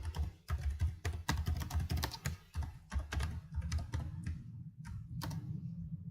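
Fingers type on a computer keyboard in quick, irregular bursts of close, crisp clacks and key taps, with short pauses between runs and no talking.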